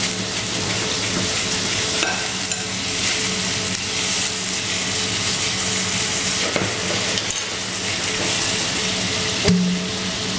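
Butter sizzles loudly and steadily in a pan of caramelizing sugar, a dense, continuous frying hiss with faint stirring scrapes and one brief louder flare near the end.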